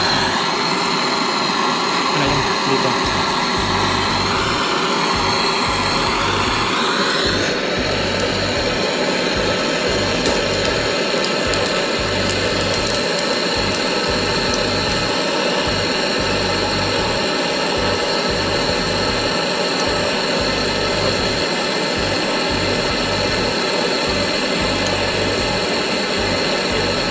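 Refrigerator compressor rigged as a homemade vacuum pump runs steadily, a loud continuous mechanical hum and hiss with a brief higher whine early on, no talking.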